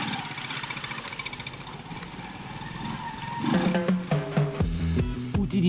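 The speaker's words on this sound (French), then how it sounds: "la TL125 est le modèle sympa de la gamme Trial chez Honda" Honda TL125 trial motorcycle engine puttering at a steady idle, then blipped into a series of uneven revs in the later half, close and fairly loud.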